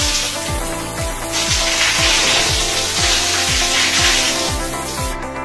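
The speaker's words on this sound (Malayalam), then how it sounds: "ഈ ഫ്ലോ നമുക്ക് വരുമ്പോൾ കാസ്കേഡ് ഫ്ലോ ആണ് വരുന്നത്." A Bagnodesign multifunction shower head runs in cascade flow mode, a close, steady hiss of falling water with a regular low ticking pulse repeating beneath it.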